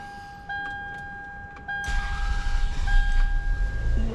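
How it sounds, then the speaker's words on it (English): A 2001 Toyota Avalon engine, with its coolant temperature sensor unplugged, idles after a few faint clicks and steady electrical tones, settling into a continuous low rumble close by. "And now it idles absolutely perfectly."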